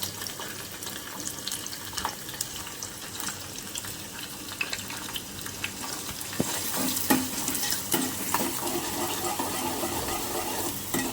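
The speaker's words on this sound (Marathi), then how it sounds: "व्यवस्थित त्यालाही आपण फ्राय करून घेणार आहोत हलका लाल रंगाचा होईपर्यंत कांदा आपल्याला भाजून घ्यायचा आहे" Finely chopped onion fries in a pan after a tempering for village-style mutton curry, a constant close hiss and sizzle with light scraping stirs, growing a little louder toward the end, with no voices.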